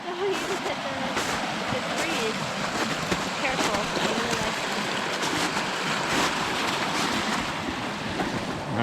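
A creek flowing beside a large maple tree in late winter, a steady rushing babble of water mixed with some wind noise, continuous and close throughout.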